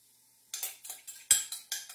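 Brussels sprouts tossed with shallots and citrus juice in a bowl, a quick series of about seven sharp utensil scrapes and clinks in a steady rhythm, close and alone.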